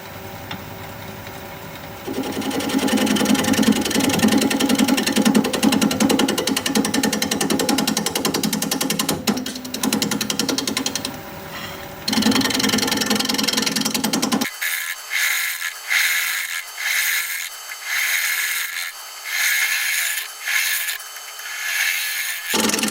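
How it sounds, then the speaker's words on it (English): Wood lathe turning a 2.5-inch-thick bowl blank at 640 RPM with a 5/8 inch bowl gouge, giving a loud continuous rasping, grinding roar that shifts to a thinner, choppy cutting texture in the last stretch, with no talk. "We're going to be turning at 640 RPM, 5/8 inch bowl gouge, mask, and face shield on."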